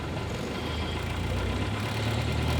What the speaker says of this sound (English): You can now rev the engine.